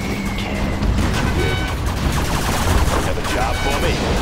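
Rapid gunfire from a Gatling cannon in the Command & Conquer Generals Zero Hour strategy game, a dense continuous rattling fusillade with overlapping battle noise, loud and unbroken across the short span.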